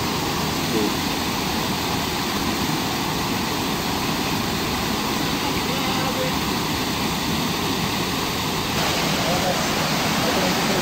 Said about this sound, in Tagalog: Itong falls na to, meron siyang shower.